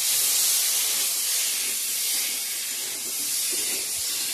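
Water poured into a pan of sautéed spices, producing a loud, steady close hiss and sizzle of steam throughout.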